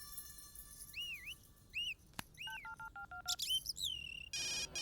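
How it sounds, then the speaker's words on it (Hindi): A mobile phone ringtone of chirpy, whistle-like electronic tones and rapid beeping patterns in an action movie, clear and fairly close with no talking over it. "देख, मेरे मना करने के बाद भी वो फोन कर रही है।"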